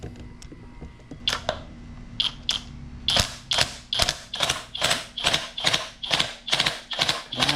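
A 5-ton jaw puller is ratcheted on a 1980s Evinrude outboard motor, producing a rhythmic series of sharp metallic clicks that start sparse and become regular, evenly spaced and close, over a low steady hum.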